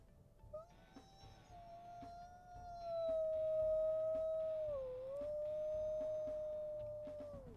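High-pitched wolf howls from WolfQuest: a single sustained, wavering howl rises and holds clearly after a brief opening note, dips in the middle, then carries on to the end with no talk over it.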